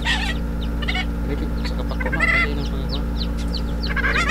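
Native wild-breed chickens cluck in short bursts with scattered chirps from chicks, over a steady low hum, close by and fairly continuous.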